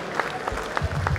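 A crowd at a bare-knuckle fighting event applauds the winner in a short, steady burst of clapping, with a few sharper claps standing out.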